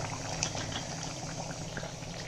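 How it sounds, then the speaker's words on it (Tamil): Brinjal (eggplant) curry bubbles and simmers steadily in a pot, with soft pops throughout over a constant low background hum. "இது கொதிக்கட்டும், பார்க்கலாம்."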